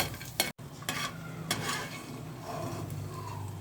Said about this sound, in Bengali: তাই জন্যে বড়িটা ভেজে নেবো প্রথমে বাড়িতে বানানো বড়ি